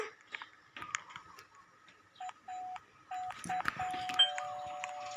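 Doorbell in a house-building video game, several short electronic chime tones ringing in quick succession among clicks and game effects, fairly clear against quiet surroundings.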